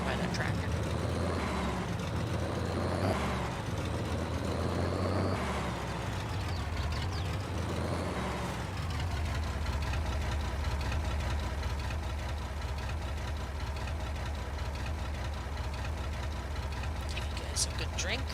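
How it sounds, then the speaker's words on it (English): Tractor engine idling steadily in Farming Simulator 22, a loud continuous low rumble throughout, with a voice talking over it in the first half. "Back off a little bit so we're not deafened by that tractor."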